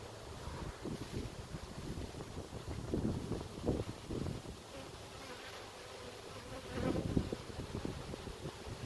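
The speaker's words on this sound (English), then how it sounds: "There's a lot of bees like this." Honey bees hum in a dense, steady swarm around an open hive during a fall inspection with smoke. The buzzing stays fairly quiet and continuous, with light wind rumble on the microphone.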